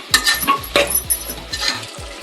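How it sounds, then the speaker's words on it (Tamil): Mushrooms sautéing in a pan for mushroom biryani, with soft sizzling and repeated clinks and scrapes of a spoon against the pan in an irregular stirring rhythm, close and moderately loud. "போட்டு நல்லா வதக்கலாம். தண்ணி வரும்."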